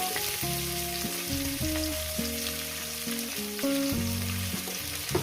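Onions fry in a pan for a chicken curry, giving a soft continuous sizzle with a little stirring, largely buried under steady melodic background music.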